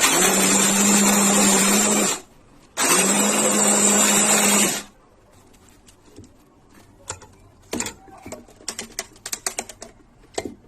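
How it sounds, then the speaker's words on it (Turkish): An electric food chopper runs in two loud, steady bursts of about two seconds each while chopping red peppers. Quieter clicks and handling knocks follow. "Tüm kırmızı biberleri de yapalım hemen. Doğrayıcıdan geçirelim."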